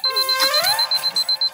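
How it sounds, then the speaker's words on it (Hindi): A loud electronic alarm clock beeps in a steady, rapid pulsing pattern, close by and alone, with a sweeping tone at the start. "अलार्म बंद करना।"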